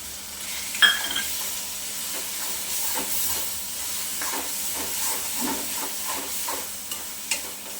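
Ground masala paste frying in hot oil for a Konkani-style chicken gravy: a soft, even sizzle and hiss with occasional stirring scrapes and a couple of clinks, heard close but quietly.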